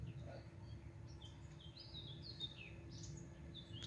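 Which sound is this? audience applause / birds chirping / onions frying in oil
birds chirping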